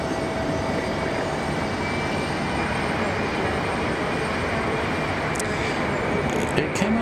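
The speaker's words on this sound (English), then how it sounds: "as we watch our 757 make its way up the hill" A Boeing 757 jet taxiing at Raleigh Durham International Airport, a steady, loud, broadband engine roar and rumble holding throughout, with a voice talking faintly underneath.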